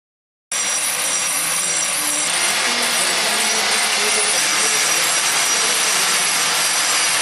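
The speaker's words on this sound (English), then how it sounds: "The first process that we use is grinding." Grinder working a concrete water-retaining structure to strip residual slurry, a steady loud abrasive whine and rasp that starts abruptly after a short silence and holds continuously, with no voices.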